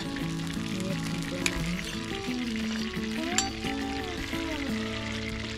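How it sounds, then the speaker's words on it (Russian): Chunks of meat sizzle and fry steadily in a kazan cauldron outdoors in a Siberian pine forest, a dense continuous crackle with occasional stirring clinks and a faint background melody, no talking. "Обжариваем до золотистой корочки."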